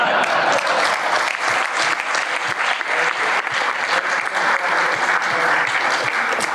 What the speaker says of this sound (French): vous avez vos 2 secrétaires confédéraux de la FGTA qui applaudissent et qui ont un sourire jusqu'aux oreilles